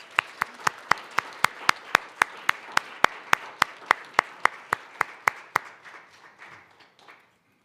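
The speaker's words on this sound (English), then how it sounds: "Big warm round of applause." Applause for a Métis Nation of Alberta government president at an assembly: about twenty evenly spaced claps ring out loud and close over a soft crowd wash that fades out after about six seconds.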